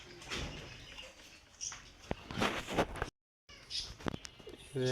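Pigeons in a coop, including a male sitting over chicks, give soft low coos amid light rustling and faint household background, with a brief silent gap partway through.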